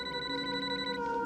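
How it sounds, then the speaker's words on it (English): A telephone rings with a steady, sustained electronic tone that stays level throughout, fairly faint and heard alone. "the phone finally rings"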